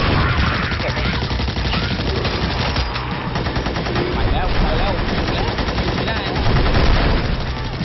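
Gunfire in Magicka rattles almost without pause as loud, rapid automatic bursts that fill the whole stretch, with a voice speaking beneath the din.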